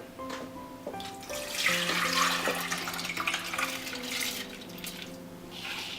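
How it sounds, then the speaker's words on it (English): Water and red lentils tipped from a bowl into a cooking pan, a steady splashing pour that runs for several seconds, with some clinking and sliding as the lentils go in, close and moderately loud. "we're gonna go ahead and combine the water with the lentils. And we're gonna go to our pan and dump them in the pan"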